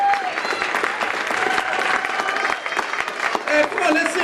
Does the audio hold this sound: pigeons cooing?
no